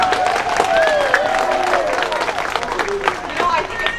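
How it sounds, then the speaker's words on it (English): An audience applauds steadily in a dense, continuous wash of clapping to vote for the faster of two young runners, with voices and calls mixed in throughout. "Now let's hear some applause if you thought Mia was the faster girl."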